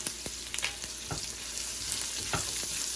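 Cumin powder and chopped red chillies sizzle in hot oil for a Hyderabadi meat pickle, a steady close frying hiss broken by a few sharp spoon scrapes, with no talking.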